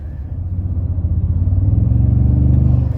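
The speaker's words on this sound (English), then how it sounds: "But for the responsiveness and the turbo sounds, I'm all about it." Toyota Tundra with the performance package accelerating, a loud deep engine rumble that builds steadily with a pulsing throb over about three seconds.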